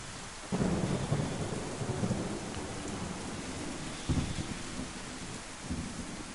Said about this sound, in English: This is a very bad thunderstorm,